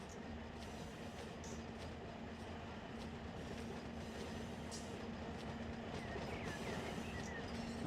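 A freight train in the Run 8 railroad simulator rolls along with a continuous heavy rumble and a faint rhythmic clatter of wheels, holding steady throughout.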